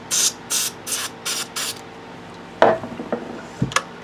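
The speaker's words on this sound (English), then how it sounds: "I got this electronic spray cleaner" Five short bursts of hissing electronic cleaner aerosol spray in quick succession while restringing a Jackson guitar, followed by a few soft knocks and handling sounds.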